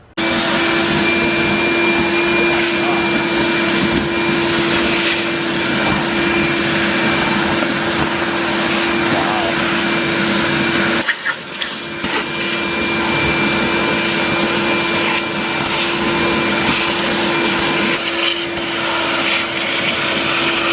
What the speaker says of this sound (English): We're gonna go ahead and get a vacuum and vacuum this out because it's disgusting